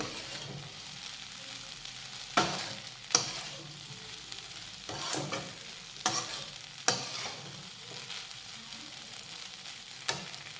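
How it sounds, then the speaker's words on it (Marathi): Sabudana khichdi being stirred and sautéed in a pan with crushed peanuts and salt: a steady soft sizzle with several sharp scraping strokes of the spoon against the pan at irregular intervals, no voices. "तर आता हे छान असं परतून घेऊया आपण"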